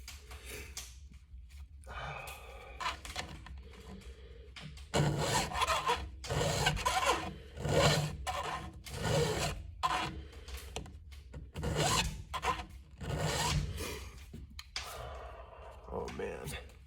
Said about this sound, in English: It's making a really satisfying sound as I file away here.